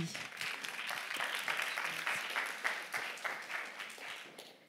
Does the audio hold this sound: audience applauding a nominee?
yes